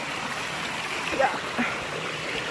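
A stream near Lion Falls in Tanay, Rizal, flows with a steady rushing hiss and a few small splashes and gurgles, heard nearby at moderate volume.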